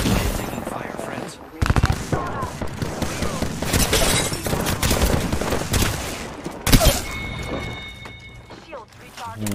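Rapid gunfire in a video game, dense bursts of shots and impacts running throughout, loud and continuous with a few sharper cracks, a brief lull near the end.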